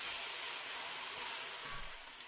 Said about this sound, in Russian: Так, все жарится, шкварчит.